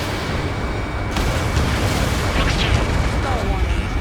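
A docking module explodes in the combat flight game Ace Combat 7, a rumbling boom swelling from about a second in and rolling on beneath a steady roar of jet engine and battle noise.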